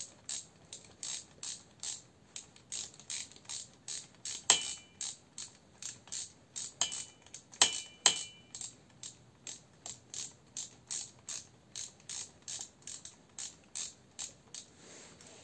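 A ratchet wrench tightening the alternator housing bolts on a Nissan Tiida during a bearing replacement, steady rapid metallic clicking strokes repeating throughout with a couple of heavier knocks, close and loud, no voices.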